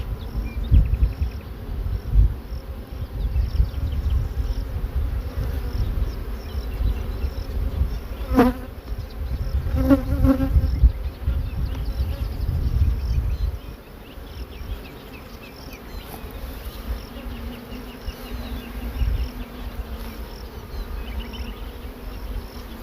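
Dense, steady insect buzzing of many honeybees close by at a hive, a continuous drone that softens a little in the second half.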